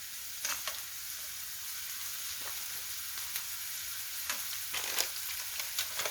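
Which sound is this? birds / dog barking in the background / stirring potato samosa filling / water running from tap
stirring potato samosa filling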